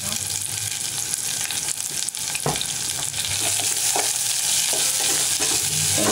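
Onions and asafoetida fry in a pan for a Tamil peanut kuzhambu, a constant loud sizzle broken by a few scraping strokes of a spoon stirring, with no talk over it.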